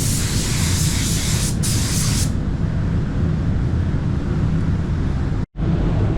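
Paint spraying onto a car gives a loud, continuous airy hiss that loses some of its sharp top partway through and cuts out for a split second near the end before resuming.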